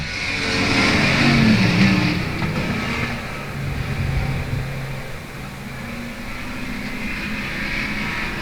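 Pure Stock race cars roar off together at the start of a heat race at South Texas Speedway, a loud, dense pack of engines swelling as they accelerate, then settling into a steady, sustained drone.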